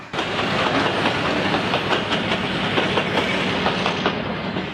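Train rumbling past on a Spanish railway line, wheels clicking over rail joints in a steady clickety-clack with a continuous hiss, loud and close throughout, with no voices.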